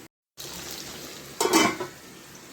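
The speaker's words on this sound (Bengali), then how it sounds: "অল্প একটু নুন ছিটিয়ে বেগুনটা ভেজে নেব" Salted eggplant frying in a pan, a soft, even sizzle close by, with a brief louder rise of spattering and clatter midway before settling back to a gentle hiss.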